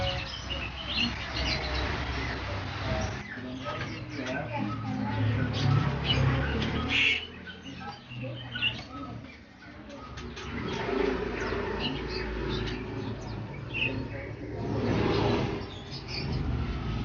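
Caged songbirds at a bird shop in North Jakarta, including magpie robin cages, chirp and coo continuously at close range, with pigeon-like cooing and overlapping calls over shop ambience.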